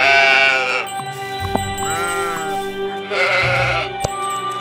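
Sheep bleating in the video game Old Man's Journey, two drawn-out, loud bleats close by with a quieter bleat between them, over a soft game soundtrack with faint musical tones.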